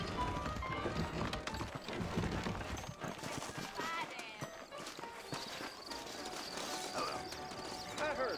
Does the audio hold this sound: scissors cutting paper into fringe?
no